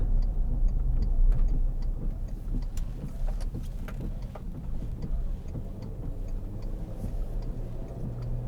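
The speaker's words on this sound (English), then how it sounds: "The engine sounds great." Cabin drone of a 2003 Volkswagen Touareg 3.2 V6 cruising along, a steady low engine hum with road rumble and scattered light ticks and clicks, no talking.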